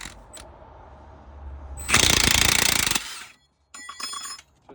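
A power tool rattles off a bolt on a 1994–1995 Ford Mustang spindle: a loud, roughly one-second burst of hammering impact, then a shorter, quieter mechanical whir after a brief pause in a garage setting.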